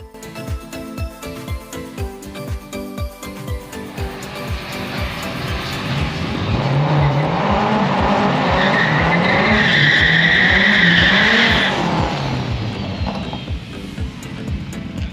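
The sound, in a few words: K20 turbo Honda Civic second gear burnout at drag strip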